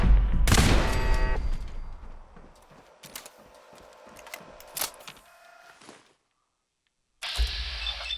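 Laser turrets fire in the Fallout 4 video game: a sharp loud blast opens, then a rapid series of snapping shots rattles for a few seconds before brief silence and another burst.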